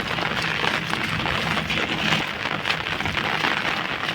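Heavy rain keeps falling over waterlogged fields, a constant loud roar of drops drumming evenly throughout, unbroken by voices.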